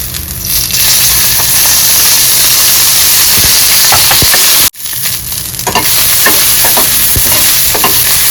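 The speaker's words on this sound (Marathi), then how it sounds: "कांदा थोडासा तेल टाकून घेणार" Onion frying in oil for a Maharashtrian chicken kharda, a loud continuous sizzle and hiss with stirring scrapes, briefly cut off by a short gap midway before the sizzle resumes.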